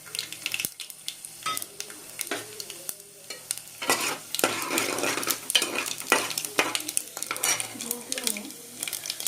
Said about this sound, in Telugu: నూనె కాగగానే ఇది పోపు దినుసులు వేసేసుకుందాం